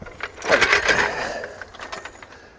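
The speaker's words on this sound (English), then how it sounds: "We're just gonna jack up the Jeep enough, just enough to get the load off the springs," A jack raises a 1973 Jeep CJ-5 just enough to take the load off the springs. There is a short burst of close mechanical ratcheting and clicking that builds and then fades over a couple of seconds.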